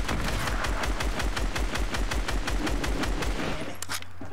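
SCAR assault rifle firing in Fortnite, a rapid, steady stream of close, loud shots at an even rhythm for over three seconds, then stopping abruptly.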